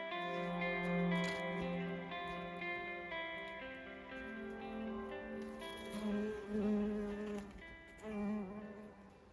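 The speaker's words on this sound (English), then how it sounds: "We are playing with the bees, giving them flowers." Bees buzz close by around flowers, their drones rising and fading as they move, with a continuous layered whine throughout.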